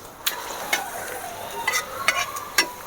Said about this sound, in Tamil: வெங்காயத்தை அப்படியே ப்ரௌனாக வதக்கி எடுக்கணும்